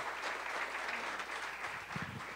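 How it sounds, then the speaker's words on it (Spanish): Church congregation applauding during an Easter Sunday service, a soft, steady patter of many hands clapping at some distance, fairly faint. "te mandamos un aplauso de amor para ti"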